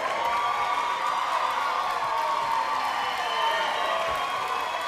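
A sellout crowd cheers and roars steadily at an LFA mixed martial arts fight in Bossier City, a dense, continuous wash of arena noise throughout.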